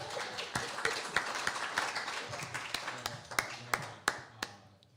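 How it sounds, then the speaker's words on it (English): Applause from a live audience at a blues and jazz performance, a dense spread of clapping that carries on steadily and thins toward the end, with a few louder single claps near the close. "Another nice round of applause for Bob."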